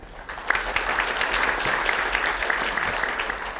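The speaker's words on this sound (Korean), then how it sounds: "조규원 작가님을 큰 박수로 맞아주시죠" A Korean seminar audience at a money roadshow applauds to welcome a guest author lecturing on gold, a continuous, even roll of clapping from many hands heard without speech.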